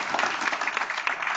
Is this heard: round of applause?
yes